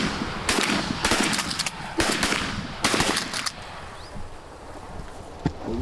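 Shotguns fire at ducks during a hunt in Montana, four or five sharp, loud blasts close together in the first half, with open outdoor wind and noise filling the gaps afterward.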